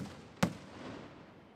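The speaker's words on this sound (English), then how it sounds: "The explosion echoed across the city." Iftar cannon fired at dusk in East Jerusalem: a single sharp blast that fades into a faint, distant echo over a low background hum.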